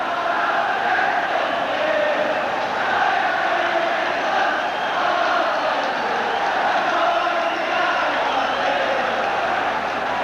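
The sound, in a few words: football crowd at Celtic v Ajax European Cup match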